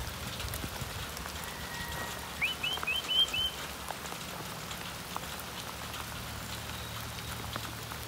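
Steady rain patters on a surface throughout, outdoors at a pig enclosure, with a brief high whistle-like chirp partway through.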